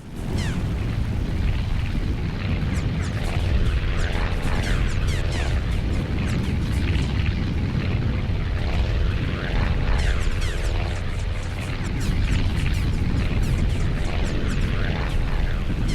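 Enemy anti-aircraft fire and explosions in the naval air combat game Task Force Admiral, a dense, continuous barrage of booming bursts and rumbling engine drone, loud and sustained with no talk over it.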